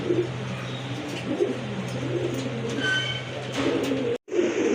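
Indian Bombay pigeons, a pair of large birds, coo in soft repeated calls over a steady low hum and background bustle, continuing almost throughout before one brief dropout near the end.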